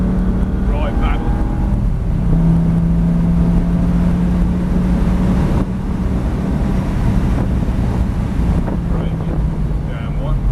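A Lamborghini Gallardo engine roars under wind buffeting as the car accelerates, its pitch climbing and dropping with each paddle upshift. A steady whine sits beneath, and a voice speaks briefly over the noise.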